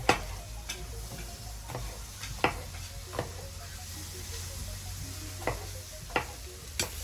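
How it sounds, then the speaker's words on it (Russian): Onion and carrot frying in a cauldron over an open fire, a steady low sizzle with sharp clicks of a utensil striking the pot at irregular intervals. "Лук с морковкой хорошенечко обжарился."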